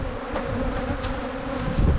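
Honey bees on hive frames drone in a steady, dense buzz, close and continuous, with no voices.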